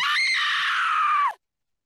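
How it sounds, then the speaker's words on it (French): A woman lets out a single sustained, loud scream lasting over a second and cutting off abruptly into silence, used as a sound effect in a horror tabletop role-playing game. "entendu une femme hurler"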